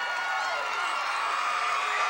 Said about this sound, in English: Standing ovation from the people at the Irish McNeil's Boys Club